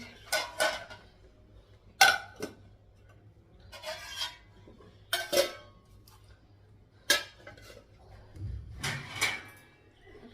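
Cooked food being covered with lids and dishes in a home kitchen: a series of separate clattering knocks of metal and crockery, spaced irregularly and close by.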